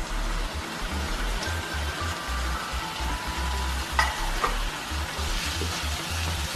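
Dried chili, cashews and tomato paste fry in a pan for fried rice while being stirred, giving a continuous close sizzle with occasional light scrapes and taps.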